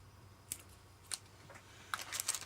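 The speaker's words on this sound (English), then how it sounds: "If I just going to cut this piece with my scissors." Scissors snip through a piece of material for a shabby chic Christmas tree decoration, giving a few crisp, separate cuts close by with quiet pauses between them.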